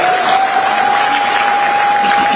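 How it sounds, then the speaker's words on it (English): Loud, dense applause from a large audience at a medical doctors' induction ceremony, a continuous wash of clapping with a thin steady tone running underneath. "Please, a round of applause for the management of the Induction"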